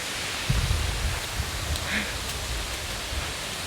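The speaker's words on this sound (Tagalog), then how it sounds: "Ayan na po yung falls." A waterfall at a river picnic spot sends out a continuous, even rushing roar of falling water that fills the whole clip, with a few faint low thumps near the start.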